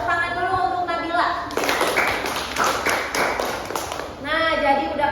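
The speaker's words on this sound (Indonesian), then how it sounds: "Tepuk tangan dulu untuk Nabila." Students in a classroom applaud, a short burst of clapping between stretches of a teacher's voice, which is heard before and after the clapping.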